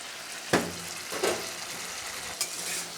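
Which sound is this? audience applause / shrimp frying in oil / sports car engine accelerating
shrimp frying in oil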